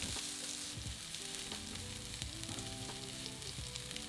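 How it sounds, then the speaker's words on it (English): Minced garlic and softened onions sizzle and fry steadily in a pan, a dense continuous crackle with faint stirring scrapes, alone and close throughout. "Now stir in 2 minced cloves of garlic and cook for a further 30 seconds,"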